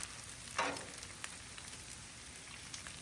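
Bacon and hash browns fry on a Loco griddle plate with a steady, faint sizzle and crackle. A brief louder spatter rises near the start, and no one speaks.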